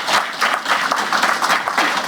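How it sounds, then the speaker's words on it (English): Survivors and their families applaud at a public inquiry hearing as a witness steps down. The sound is a steady wash of many hands clapping, moderately loud and even throughout, with no talking over it. "As he stepped down from the stand, Mr. Webster was applauded by other survivors and their families."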